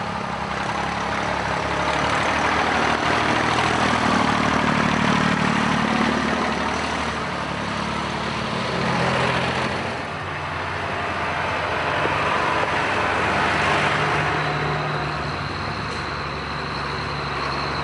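Vintage 135 tractor on an off-road woodland section of a South Lakes tractor run, its heavy engine droning steadily and loudly, with gentle swells in load as it pulls along, no talking.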